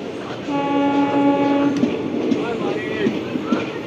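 A MEMU local passenger train on the Lalgola–Sealdah line pulls away with a steady tonal motor whine rising in pitch, a close rumble beneath it and a few sharp clicks from the wheels.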